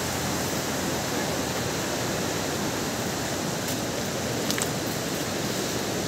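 Strong ocean waves surge and crash steadily at a crowded beach where people are swimming, a dense, constant roar of surf filling the scene from start to end with no talk.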